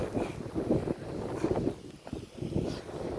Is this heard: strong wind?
yes